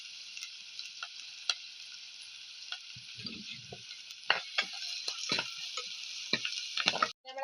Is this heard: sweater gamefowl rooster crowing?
no